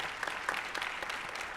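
A crowd at an awards show claps continuously in a dense, steady wash of applause for committee members standing up. The clapping holds at an even level throughout with no talk.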